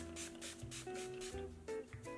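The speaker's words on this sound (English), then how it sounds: "now I'm just going to spray my skin with a soothing," A soothing, calming facial mist from Lemieux is sprayed onto skin in a few short, soft hissing bursts, faint and close, with no talking over it.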